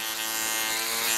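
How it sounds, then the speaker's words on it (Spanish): Steady buzzing hum of an Artero Level electric shaver running while shaving the sides of a man's head at a barbershop, continuous and close, with no talking. "Vamos a afeitar lo que son los laterales."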